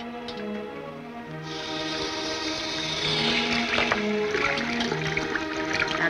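Water from a tap running over a hand in a basin, a steady splashing rush that swells and grows louder midway, with low music underneath.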